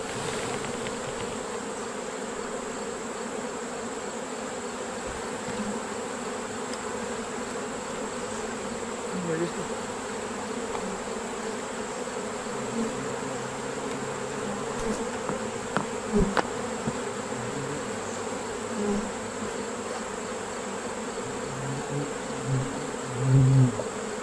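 A steady, dense insect buzz of about half a cup of honey bees in a jar drones on continuously, close and enclosed, with a few brief louder flurries near the end.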